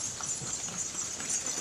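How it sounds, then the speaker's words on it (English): Horses clip-clop along a road on Gili T island in Indonesia, a soft, steady patter of hooves under constant outdoor hiss and insect-like buzzing, without talk. "These horses just take over."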